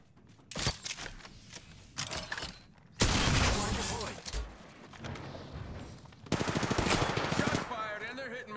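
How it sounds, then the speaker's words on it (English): Automatic gunfire in the battle royale shooter Apex Legends comes as several loud, close bursts of rapid shots separated by short pauses, with a few impact and shattering sounds, partly under speech. "Shots fired and they're hitting me"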